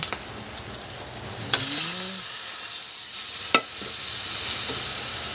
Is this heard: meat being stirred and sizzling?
yes